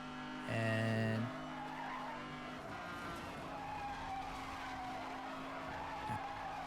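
Car brake-drifting in Need For Speed Hot Pursuit Remastered: a loud tonal tire squeal at the start, then a steady engine drone with skidding texture carrying on underneath, no talking.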